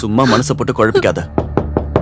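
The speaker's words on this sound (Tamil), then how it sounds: "யாரோ கதவு தட்டுறாங்க" A few sharp knocks on a door, spaced evenly and close, follow a woman's short line of speech in a Tamil drama scene.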